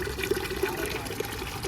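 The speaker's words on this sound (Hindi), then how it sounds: "इसलिए हम लगभग 3 लीटर पानी ऐड कर रहे हैं।" Water, about three litres, poured into a pot of spices for biryani rice, a steady splashing gush with small bubbling bursts, close and alone.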